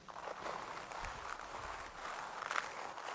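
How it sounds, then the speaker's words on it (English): Processed nature-sound texture with grain delay and a high cut, giving a soft crunching rustle like footsteps on snow, steady and muffled with a few brighter crackles. "It almost sounds like somebody's walking on snow,"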